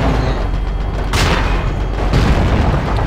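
A deep, heavy explosion booms in the Battlefield 2 video game, a sustained rumbling roar with two sharp surges of blast, loud and dense with no talking over it.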